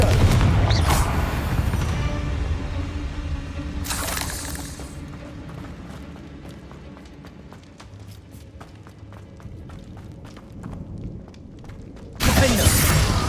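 Confringo blast spells explode in the PC game Hogwarts Legacy: loud, sharp bursts near the start, around four seconds, and again near the end, with quieter game ambience and small crackles between them.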